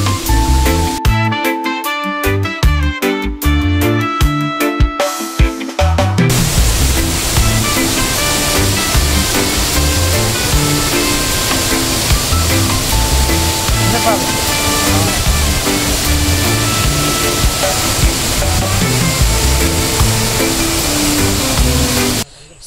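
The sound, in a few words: waterfall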